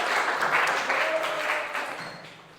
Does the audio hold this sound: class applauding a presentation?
yes